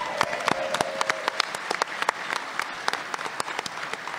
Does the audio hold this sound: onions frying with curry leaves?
no